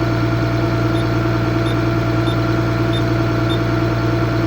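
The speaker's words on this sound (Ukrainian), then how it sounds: "Скидаємо обороти. Глушим трактора" Case MX 270 tractor engine idling, a steady, loud, close low drone with an even hum and faint periodic ticks, continuous throughout with no talk.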